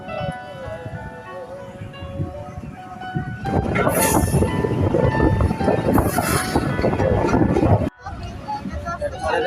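A passenger train runs near Ramdia station on the Bhatiapara to Rajbari line in Bangladesh. It is a steady, close rumble that swells louder after a few seconds and cuts out briefly near the end, with indistinct voices underneath.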